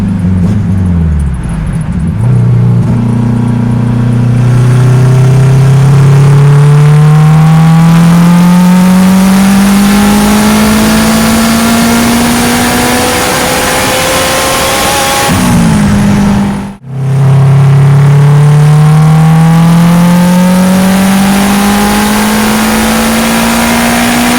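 Turbocharged Honda K20z engine in a CRX, with a GT3582 turbo on 91 octane at 4.5-9 psi boost, revving loud and close in third gear in two long rising pulls split by a brief drop-off.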